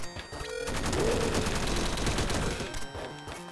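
Gunfire in the pixel-art video game Downwell comes as a dense, continuous loud burst of rapid shots with ringing electronic tones, with no talking.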